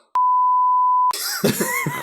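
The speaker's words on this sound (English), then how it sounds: "I'm gonna beep out one of those words." A censor beep covering a spoken word: a single steady pure tone lasting about a second, loud and isolated, followed right after by talk.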